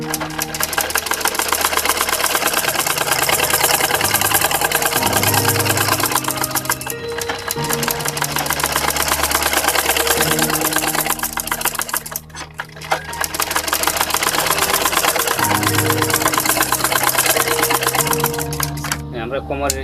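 A sewing machine stitching a baby skirt with its waistband elastic, running in steady bursts of rapid mechanical chatter with short pauses between runs, loud and close throughout.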